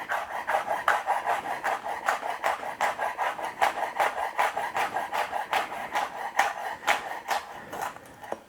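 A knife finely slices chillies on a board, a fast, even run of crisp close chops that repeats for several seconds without speech.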